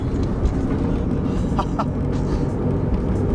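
A Lamborghini engine idles at about 2,000 RPM with zero throttle in a wintry driveway, a steady low rumble running loud throughout with no talk over it.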